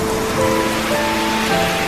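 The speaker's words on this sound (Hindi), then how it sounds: "यहाँ तो बहुत तेज बारिश हो रही है और ठंडी हवा चल रही है।" Heavy rain falls steadily in cold wind, a dense, even roar of drops on surfaces with no break, loud and close throughout.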